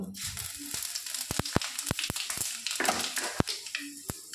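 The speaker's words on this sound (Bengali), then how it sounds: "এবার আমি এখানে নিয়ে নিয়েছি শুকনো লঙ্কা, তেজপাতা আর পাঁচফোড়ন। এটা আমি তেলের উপরে দিয়ে দেব।" Dried red chilli, bay leaf and panch phoron hit hot oil and sizzle in a pan, a soft continuous crackle broken by sharp scattered pops and spits, close and fairly quiet, with no talk.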